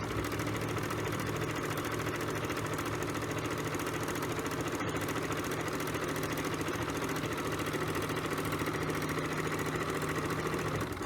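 A sewing machine stitching in a steady, continuous mechanical hum and clatter that runs unbroken throughout, fairly close and with no talking.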